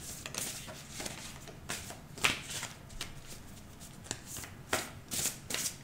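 A deck of oracle cards being shuffled by hand during a weekly tarot-style reading, with repeated crisp riffling bursts and soft slaps at an irregular rhythm, close and fairly clear.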